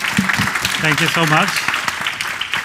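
An audience at a data career talk applauds as a presenter is welcomed, the clapping heard as a broad wash beneath the close, clear voice of the speaker thanking them.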